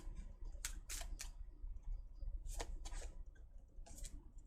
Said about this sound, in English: before they get tired of hearing me shuffling these cards